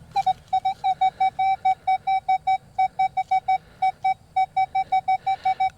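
A Minelab Manticore metal detector in a mangrove swamp beeps over a small target in a quick series of short, steady tones, repeating evenly about three times a second with brief gaps between bursts.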